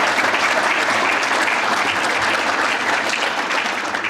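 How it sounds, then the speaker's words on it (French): A room full of people applauds after a presentation on building management, producing a continuous, even roar of clapping throughout, fairly loud and unbroken by speech. "On peut l'applaudir."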